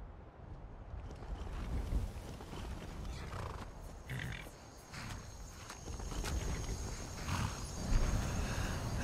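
Horse hooves clopping in the video game Skyrim, a steady walking rhythm of soft repeated thuds over an ambient outdoor background, moderately close and with no talking.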